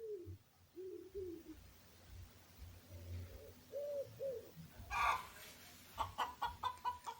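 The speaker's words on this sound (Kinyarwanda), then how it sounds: "Inkokokazi irakokoza cyangwa igateteza iyo iri mu magi." A hen clucks in short repeated notes at moderate distance, a farmyard scene where other birds call intermittently, with a sharper burst of higher calls near the end.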